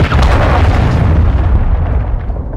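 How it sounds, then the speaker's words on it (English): A cruise missile blast in Modern Warfare II Search and Destroy gives one loud, close boom that rolls into a long rumbling tail and then cuts off. "Hostile cruise missile incoming"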